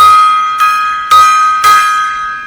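A gong is struck four times in quick succession. Each hit rings out bright and metallic with a long sustained tone that carries into the next strike.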